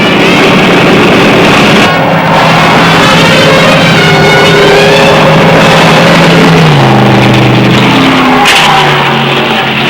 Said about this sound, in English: The drivers stretch out and the cars thunder by lap after lap.